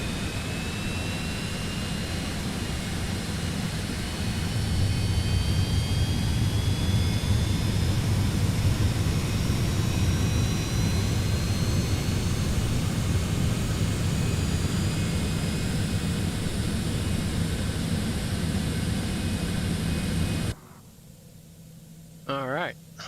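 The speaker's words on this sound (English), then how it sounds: "And engine 2 starting." A Citation X business jet engine spooling up on start in Microsoft Flight Simulator 2024, a loud, sustained turbine whine and roar with rising tones that holds steady before cutting off abruptly near the end.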